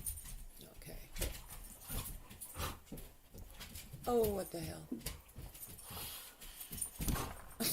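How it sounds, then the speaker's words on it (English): Dogs scuffle and whimper beside a chair near a desk, with short yelps, panting and thumps scattered throughout, while a person talks over them. "I have like the dogs fighting between my chair and my desk"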